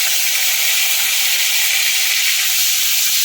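Ground spice paste sizzles loudly in hot oil with tempering spices for a cauliflower curry, a steady dense hiss that fills the whole span without pause.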